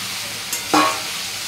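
Fried potatoes dropped into a pan of cooked spice paste, a steady low sizzle with a brief clatter and a sharp burst of frying as they land, with no voices.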